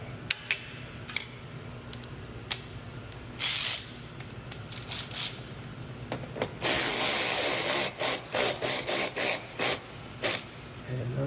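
A 10mm socket ratchet tightens a bolt while Ark splash guards go onto a 2022+ Nissan Frontier Pro4X. Repeated short bursts of close ratcheting clicks build to a longer run of clicking near the end.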